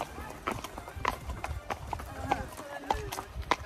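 Hooves of a pony clip-clop in a steady, repeating rhythm as it is ridden along a beach ride, each strike sharp and fairly close, with people talking throughout.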